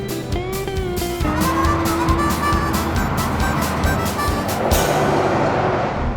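A Land Rover Discovery cruises along a Nevada interstate, steady road and engine rumble with tire hiss filling the whole stretch at a constant close level, no pauses and no voices.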